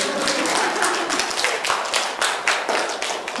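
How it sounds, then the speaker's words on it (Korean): Steady applause from a crowd, dense clapping that swells and ebbs slightly throughout, with no voices. "이쯤 되면 박수가 나올 거라고 생각했는데"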